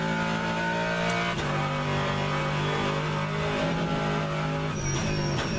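GT3 race car in the racing game rFactor 2, engine droning and revving through gear changes with a brief shift blip, loud and constant, no voices.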